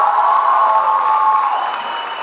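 Crowd of supporters from Tkvarchal cheering and applauding in a hall during a competition show, a loud sustained roar with a bright shouting edge that eases slightly toward the end.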